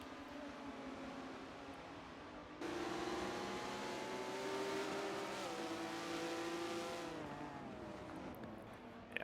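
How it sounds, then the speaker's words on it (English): Race cars in a Forza game lap the Brands Hatch GP circuit in a TORA British GT event, engines droning steadily and then swelling louder as a pack passes close, with rising and falling revs and no talk. "take a look at these beautiful cars as they race around this track"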